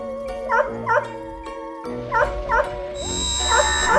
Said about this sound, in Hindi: ये कुत्ता आज इतना क्यों रो रहा है?